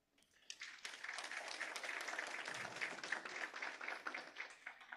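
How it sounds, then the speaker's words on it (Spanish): An audience at an international conference on collaborative negotiation and mediation claps for the officials at the head table, a sustained burst of steady applause from a moderately sized crowd, heard at some distance. "voy a pedirle fuertes palmas para nuestras autoridades, funcionarios que el día de hoy nos acompañan en la mesa principal"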